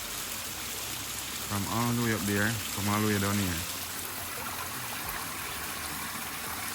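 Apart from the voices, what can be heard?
waterfall flowing at a garden in Jamaica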